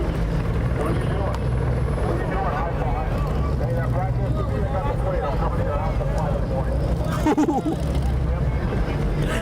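A helicopter drones loudly and continuously overhead at night in Los Angeles during riots, its rotor thrum steady throughout, with faint voices or other sounds mixed in underneath.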